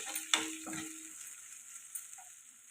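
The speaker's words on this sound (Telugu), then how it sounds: "ఈ మసాలాలన్నీ కలిసేలా కలుపుకోవాలి" Masala of turmeric, salt and coriander powder being stirred in a pan for paneer matar curry, a couple of sharp spoon scrapes over a faint steady sizzle, close and quiet.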